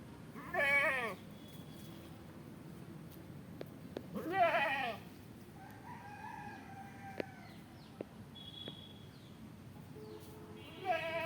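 Farmyard goats bleat in short, loud bursts near the start, middle and end, with chickens and a rooster clucking and crowing more faintly between them over a steady outdoor background.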